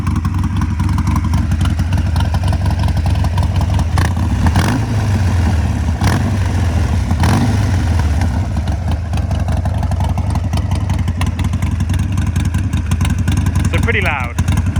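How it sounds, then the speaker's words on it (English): Warm Harley-Davidson 48 idling through Vance and Hines exhaust pipes: a loud, close, steady, lumpy rumble that stays constant throughout while someone talks over it. "That's what it just sounds like when it's idling."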